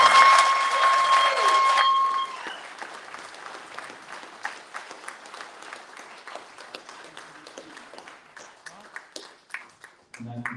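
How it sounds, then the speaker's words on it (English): An audience at a Republican primary debate and town hall claps for the candidates; scattered claps continue at a moderate distance after a steady tone fades, tapering off near the end, with a voice also present. "I want to just ask for one last round of applause for each and every one of these candidates"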